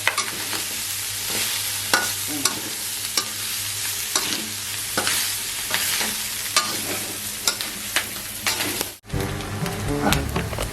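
Pork sizzling loudly in hot oil in a pan, a constant close frying hiss broken by scraping stirs from a utensil, with a brief dip near the end.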